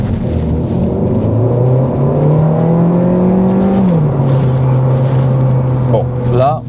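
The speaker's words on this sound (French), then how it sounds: "Petite accélération." A 2024 Cupra Leon eTSI 150 accelerating, its engine note rising steadily through a gear with a brief drop at the shift, loud cabin rumble throughout and faint road noise.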